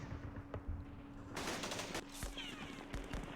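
Gunfire in the Vietnam war game Campaign Series Vietnam: a burst of loud bangs and rattling automatic fire in the middle, with scattered thuds before and after over a low hum.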